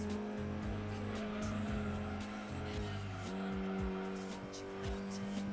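Racing game engine drone from Gran Turismo 2 on PS1, a steady loud motor note with gear-shift pitch changes and short tire squeals, with a voice talking briefly over it.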